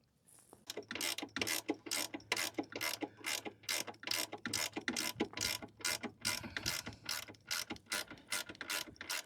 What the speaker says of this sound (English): Just running these nuts down a little bit, still leaving it slack where it can be moved around for adjustments